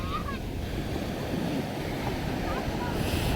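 Large ocean waves break and wash along a sunny sandy beach at Thiruvanmiyur, Chennai, a continuous broad roar of surf with some wind buffeting the microphone and faint voices nearby.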